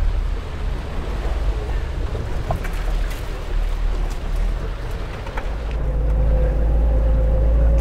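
A UAZ-452 van drives through water, a constant loud rumble of engine and sloshing with roughly steady intensity and a low drone that builds near the end, and no talking.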